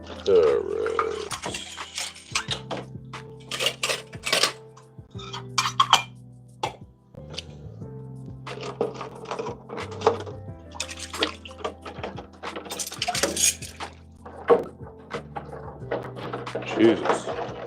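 Metal silverware clinks and clatters in a kitchen drawer, a run of bright, close rattles and scrapes spread across the clip, with someone speaking intermittently over it.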